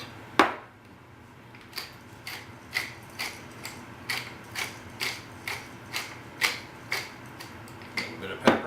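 Pepper grinder cranking pepper over enchilada filling, a close, fairly quiet run of evenly spaced ratcheting clicks, about a dozen turns at a steady rhythm with no talking.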